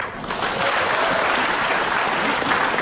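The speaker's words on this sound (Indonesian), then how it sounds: "Tepuk tangan dong." Studio audience applause on an Indonesian talk show, a dense, loud, sustained wash of clapping from a large crowd.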